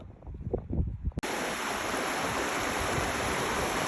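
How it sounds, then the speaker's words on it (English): Glacier meltwater runs off the Tablelands in Newfoundland's Gros Morne, an even, rushing flow that cuts in abruptly after a few gusty, muffled thumps and holds steady and fairly close. "this must be the water running off on the glacier at the top"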